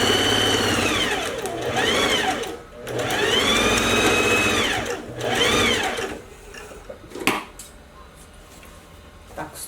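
A sewing machine runs close and loud in several sustained bursts of rapid whirring stitches, pausing between runs and stopping toward the end, while a lined coat is sewn.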